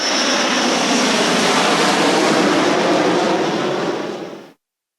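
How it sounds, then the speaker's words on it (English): An airplane's engine roars loud and steady, a broad continuous drone that cuts off abruptly near the end. "Airplane,"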